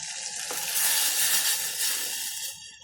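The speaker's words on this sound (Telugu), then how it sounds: "ఇప్పుడు చింతపండు రసం ఉంది కదా చింతపండు రసాన్ని కూడా వేసేద్దాము" Tamarind juice is poured into a pan of cooking tomato and pepper rasam, setting off a close, loud, steady hiss and sizzle that swells and then settles over a few seconds.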